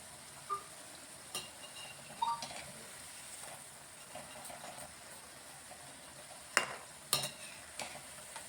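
Pakodi made with leafy greens fry in hot oil with a soft continuous sizzle, broken by a few sharp scraping and stirring clatters, some close and louder.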